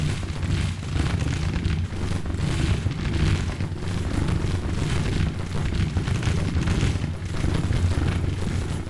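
Artillery guns firing across a Civil War battlefield in Grand Tactician: Civil War, a steady rolling rumble of heavy booms layered into a dense continuous roar that never lets up.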